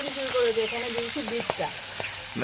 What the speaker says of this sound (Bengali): এবার দিয়ে দিচ্ছি মটরশুঁটি অনেকটা লাফাবে